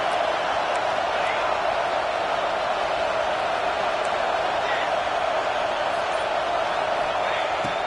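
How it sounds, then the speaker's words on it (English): Stadium crowd at a college football game against LSU roars steadily on a fourth down, a dense, loud, sustained wall of noise with no letup. "This crowd busting the decibel meter and trying to will a fourth down stop."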